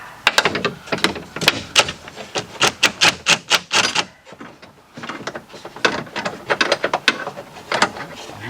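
Ratchet with a 10mm socket loosening bolts on a Chevy Equinox / GMC Terrain door during window regulator motor replacement; rapid, loud, close clicking in quick rhythmic bursts with a brief pause midway, no talking.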